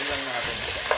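Chicken pieces sizzle steadily in hot oil in a pan as they are stirred, a constant frying hiss with a brief brighter scrape near the end.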